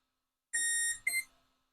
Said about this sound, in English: So now we just have to wait till we hear those 4 continuous beeps